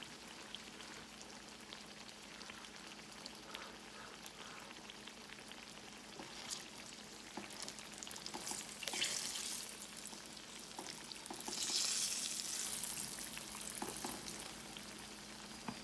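Yellow summer squash fries in a pan with a steady, quiet crackling sizzle like light rain, swelling louder in bursts partway through, with no talking.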